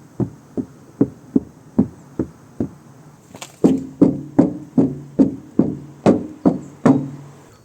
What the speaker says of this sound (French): On va comparer le son de la tôle de la porte par rapport à l'autre porte qui n'est pas faite.